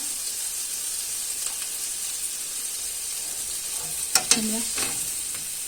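Onion frying gently in a pan gives a soft, steady sizzle with a faint hiss underneath, followed near the end by a couple of sharp clinks and scraping stirs.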